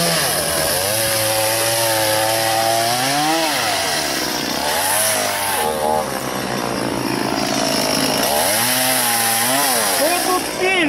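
A chainsaw cuts wood out in the taiga, its engine revving up and dropping back in repeated surges, loud and close, with a continuous drone between the bursts.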